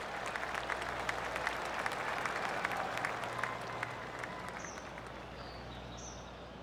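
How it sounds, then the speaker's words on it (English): Crowd applause from galleries around a golf course in the video game PGA TOUR 2K25, a dense steady patter of golf claps at moderate distance lasting throughout, with faint bird chirps scattered above it and no talking. "I can hear the golf claps around the course."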